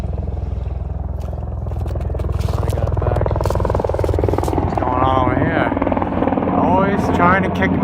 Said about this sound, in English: a chopper comes and tells me to leave.